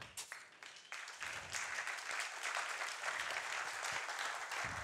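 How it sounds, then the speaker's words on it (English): A crowd at a bar show applauds the bar team, a thick wash of clapping that rises after a few scattered opening claps and holds steady and full. "they deserve a round of applause as well"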